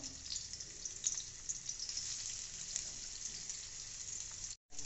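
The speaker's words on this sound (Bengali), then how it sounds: "প্রথমে আমরা কড়াতে তেল দিলাম, তারপরে পেঁয়াজ দিচ্ছি।" Onions sizzle steadily in hot oil in a karai, a bright continuous crackle with no one speaking, as a Bengali chorchori is started.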